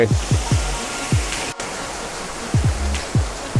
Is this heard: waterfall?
yes